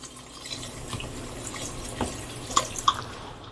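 Water poured from a tap or jug into a cooking pot holding cornstarch and seasonings while making pig's feet, a soft steady trickle with a few sharp drips and splashes near the end.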